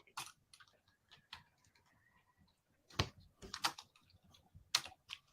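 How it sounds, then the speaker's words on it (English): Clicky keystrokes on a computer keyboard, typed in short irregular bursts with pauses between, close and fairly quiet, with no talking. "As you're typing this in, Aaron"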